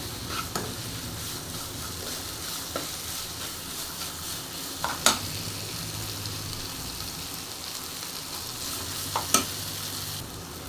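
Spices are dry-roasted and stirred in a pan while preparing a bottle gourd curry, giving a steady low sizzle and rustle with a few faint scrapes and clinks of the spoon against the pan.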